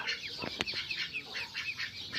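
Duck and chicken chicks cheep and cluck in quick, soft calls, with a few brief flutters of wings close by.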